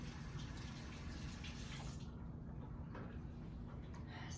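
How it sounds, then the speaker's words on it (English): Water runs steadily from a kitchen tap as hands are washed underneath, a continuous close splashing hiss that thins briefly midway before resuming. "I wash my hands again."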